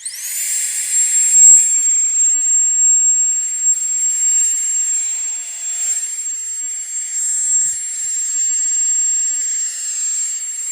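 An Etenwolf Air 3 electric air pump inflating, a loud, steady high-pitched whine and whir that runs throughout with a slight dip in pitch midway, heard alone without talk.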